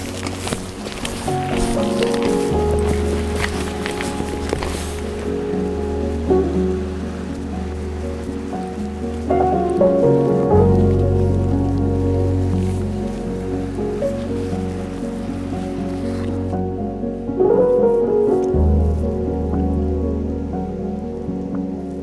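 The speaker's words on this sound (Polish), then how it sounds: "Ma być tego deszczu coraz więcej." Steady rain patters on a mountain trail in the Western Tatras, near the Zabrat pass and the Rohacka valley. The hiss is continuous for about twenty seconds, with a low rumbling drone underneath and no clear talk.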